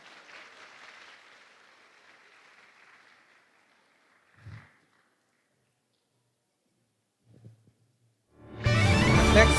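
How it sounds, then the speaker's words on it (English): Applause from a conference audience breaks out near the end, dense and loud after mostly quiet moments with a faint hiss and a couple of soft thumps. "Please give him a round of applause."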